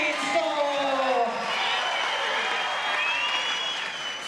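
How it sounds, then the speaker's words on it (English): A rodeo arena crowd applauds and cheers for a bucking bull on its victory lap, a broad roar of clapping with an announcer's voice running over it. "A big round of applause for the"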